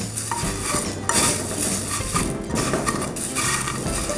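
An ice cream ball is rolled through egg wash and then cornflakes by hand, giving soft, steady crunching and rustling close by with light clinks of a bowl or utensil. No one speaks.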